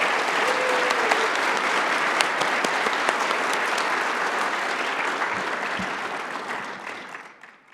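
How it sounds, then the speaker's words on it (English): A gala audience breaks into sustained applause, dense clapping from a large crowd that holds steady for several seconds before tapering off at the end. "Okay, now we get to clap"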